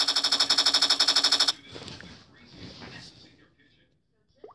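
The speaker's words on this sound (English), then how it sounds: "Nail gun. Now this is gonna be painful. Take nails to the face!" A nail gun fires in a video game as a rapid, loud mechanical burst of about a dozen evenly spaced shots, stopping abruptly, followed by fading clattering impacts and a brief faint click near the end.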